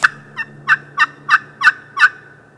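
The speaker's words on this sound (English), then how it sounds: "As luck would have it, Lake gets a gobbler to fire off mid-morning." Wild turkey gobbler gobbling mid-morning during a spring hunt, seven sharp rattling gobble bursts in steady succession, fairly close and loud over a quiet outdoor background.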